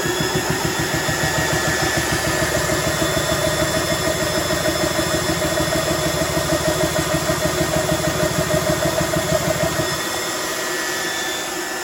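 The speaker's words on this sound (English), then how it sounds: "we will power it up and start it and run it up to 1500 psi" A JTS Comp 1 high-pressure compressor runs steadily with a loud, pulsing mechanical chug and whine for about ten seconds, building toward 1500 psi, then the drive cuts out and only a lower hum remains.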